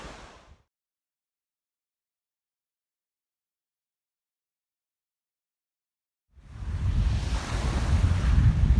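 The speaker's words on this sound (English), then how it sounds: "the sea is moving a lot today" Surf rolls onto a beach on Dorset's Jurassic Coast, loud and close with steady rushing wash and wind, rising in suddenly after a long stretch of silence.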